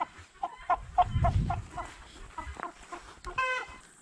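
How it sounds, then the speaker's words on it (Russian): A three-month-old rooster of a Naked Neck or Redbro breed crows in a short, youthful call near the end, after a series of nearby clucks from chickens in a poultry pen, with no voices. "уже и кукарекает по-взрослому в свои 3 месяца тут"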